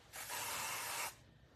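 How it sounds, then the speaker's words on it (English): Dry shampoo sprayed from an aerosol can onto hair gives one steady, close hiss lasting about a second, starting and stopping sharply, with no talking. "this dry shampoo is going to help give you volume"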